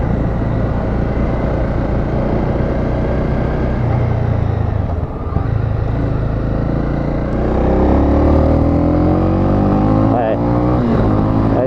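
A Honda CB300R motorcycle engine rumbles loud and close, then climbs in pitch as it revs through the gears under wind noise.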